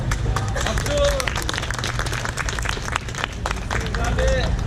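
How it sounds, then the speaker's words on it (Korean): An audience applauds at a Korean commemorative event for the 100th anniversary of the March 1st Movement, a dense burst of clapping under continuous talk through the whole stretch. "박수!"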